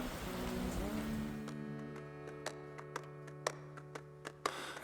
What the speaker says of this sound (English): The last week of September, a bit of rain.